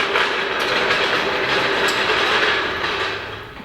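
A train rolls past close by, a loud, steady rumble with clattering wheels that holds for a few seconds and then eases slightly.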